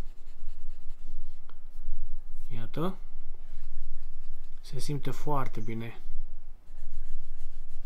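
Fountain pen scratching across Oxford Optik paper, a soft continuous rubbing of nib on paper in close view, with someone speaking partway through.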